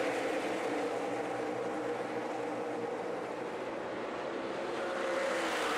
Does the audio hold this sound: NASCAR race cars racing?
yes